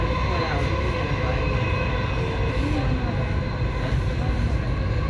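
A Dubai Metro train runs with a steady, loud rumble and rail hum, continuous throughout with a faint announcement-like voice beneath the noise.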